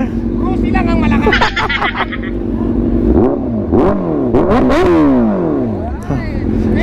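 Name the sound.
motorcycle engine revving at a motorcycle expo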